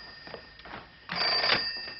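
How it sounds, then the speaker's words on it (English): A telephone rings in short electronic bell bursts, a softer ring followed by a louder sustained one, fairly close in a quiet room. "The phone. The phone."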